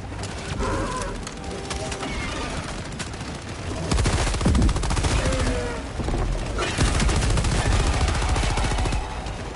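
Sustained machine gun fire in Helldivers 2, dense rapid bursts roaring loud and continuous, with louder stretches midway and a voice speaking over the battle.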